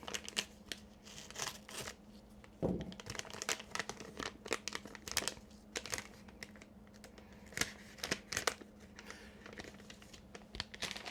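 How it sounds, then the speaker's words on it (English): A DMA card package is torn open up close, with crisp crinkling plastic and ripping in quick irregular bursts, followed by a few soft handling taps. "we're going to break this package open here"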